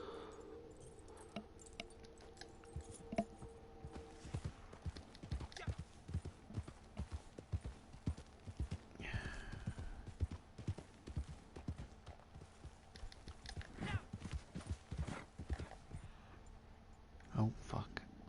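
Horse hooves clip-clopping steadily in Red Dead Online, a fast continuous patter of hoofbeats close by with a brief whinny midway, under people talking.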